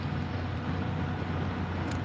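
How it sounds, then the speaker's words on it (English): A standby generator at a Lowe's store, started during a power outage in a mini mall area, runs as a steady low engine drone with a dense broadband hum that persists without a break. "what you're hearing is Lowe's own generator kicking in."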